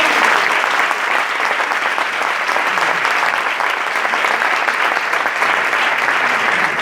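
Loud, sustained applause from a seated audience at an anniversary event in La Pedrera, a dense continuous roar of many hands throughout.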